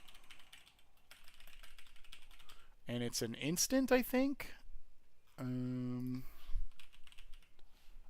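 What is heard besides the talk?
typing on a computer keyboard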